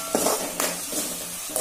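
Curry with tomatoes and curry leaves stirred in a pan, a low sizzle broken by a few sharp scraping strokes of a spoon against the metal.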